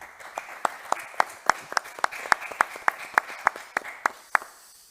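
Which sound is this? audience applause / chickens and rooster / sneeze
audience applause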